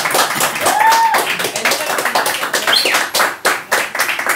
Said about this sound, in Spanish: Un aplauso, frente.